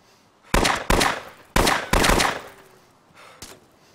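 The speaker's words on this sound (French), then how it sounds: "Ça se bat au pistolet en bas." Pistol gunfire in the video game DayZ: five loud, sharp shots come in uneven pairs with short gaps, followed by a fainter final shot.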